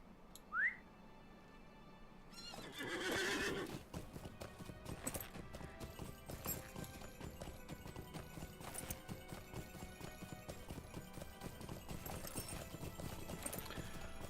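In the online game The Lord of the Rings Online, a horse whinnies briefly, then hooves clip-clop in a steady, close rhythm that carries on at even loudness.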